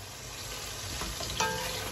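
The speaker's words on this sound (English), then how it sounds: "Let it fry and fry down." Stew fish and okra frying down in a pan, a steady close sizzle with faint stirring scrapes and a brief clink, continuous and fairly quiet throughout.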